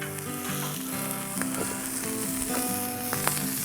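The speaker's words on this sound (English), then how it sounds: "we'll get them to sizzling down" Two 4-ounce smashburger patties sizzle steadily on a hot Blackstone griddle with a dense, continuous frying hiss that stays close and moderately loud, with a few faint clinks of a spatula or utensil.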